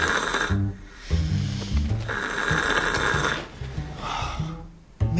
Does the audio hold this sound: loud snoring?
yes